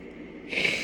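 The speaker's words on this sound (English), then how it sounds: "Sorry for blowing my nose on the camera." One person gives a short, close nose blow, a sudden breathy hiss rising from quiet room tone.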